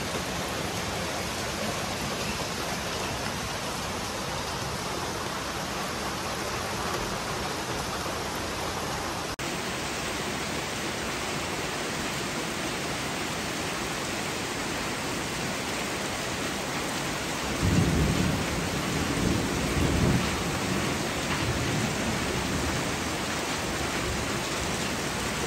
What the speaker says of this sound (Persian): باور که باران گرفت.